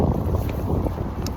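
Wind gusts outdoors on a walk and buffets the microphone with loud, rough rumbling that runs through the whole short stretch without a break.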